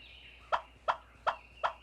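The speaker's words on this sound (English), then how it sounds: "This hen's clucking is one of 8 basic calls in the turkey's substantial vocabulary." A wild turkey hen clucks four times in an even rhythm, each cluck short, sharp and fairly close, over a quiet outdoor background.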